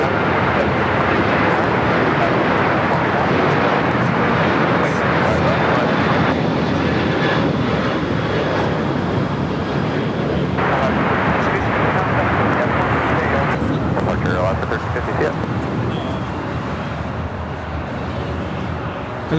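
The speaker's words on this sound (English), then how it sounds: "Frontier Flight 3211 coming in from Dallas, Fort Worth, Klondike, the Polar Bear livery" A Frontier Airlines jet in Polar Bear livery arrives at LAX from Dallas Fort Worth, a loud close broadband engine roar filling the whole stretch, with voices talking over it.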